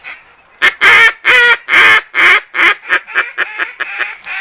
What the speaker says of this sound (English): I use what is a call to bring the duck in, which is a long call